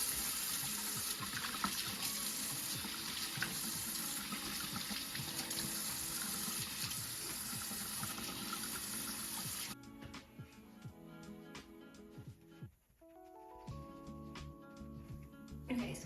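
Water runs steadily from a bathroom tap while a face mask is rinsed off, a close continuous splashing rush that shifts midway to lighter splashes and drips as the flow is interrupted by hands.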